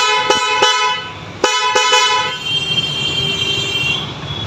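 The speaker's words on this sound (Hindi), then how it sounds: "आज मेरी गाड़ी में हम हॉर्न फिट करेंगे।" A newly fitted vehicle horn honks loudly in several short blasts, then one longer toot, followed by a steady rumbling of traffic or engine noise.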